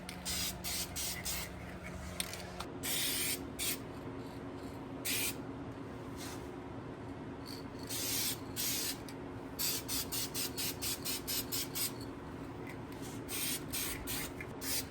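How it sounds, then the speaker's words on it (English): Aerosol paint sprayed onto primed, sanded car brake caliper covers in a garage, heard as a steady hiss broken into repeated short bursts, loud and close with no talking. "I primed the caliper covers because I did expose some metal, and then just went back to 800 grit to make sure they were nice and smooth before spraying some color."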